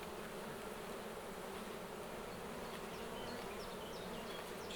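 Honey bees buzzing at a live hive, a dense continuous drone close by with some individual bees whining past, steady and unbroken, with no one talking.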